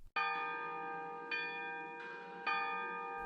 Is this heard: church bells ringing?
yes